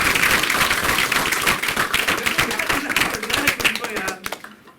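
Audience clapping at a soft skills workshop at KBC NMU, dense and steady applause from a crowd that rings on, then thins and fades out near the end.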